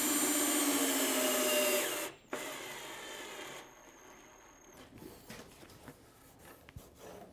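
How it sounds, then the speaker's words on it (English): A power drill bores holes through the tangs of wooden boat frames into the chine log of a V-bottom skiff: a loud steady whir for about two seconds, a brief restart, then quieter handling clatter. "drill that second hole through the tang in the end of the frame into the chine log"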